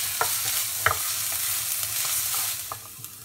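Ginger garlic paste frying in oil in a pan, a steady close sizzle with a few light clicks of stirring scattered throughout, no voices.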